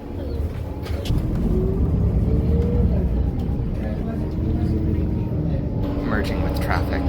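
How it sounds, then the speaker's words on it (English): A city bus merging with traffic on State Street in Salt Lake City, a low steady engine rumble with passing-vehicle noise throughout, under ongoing talk from people. "Merging with traffic on State Street. Not the easiest job for bus drivers."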